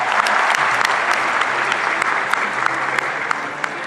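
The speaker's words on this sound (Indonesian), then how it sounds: "Mohon tepuk tangannya." A crowd at a university graduation ceremony claps in steady, loud applause, with individual sharp claps popping out of the dense wash for the full four seconds.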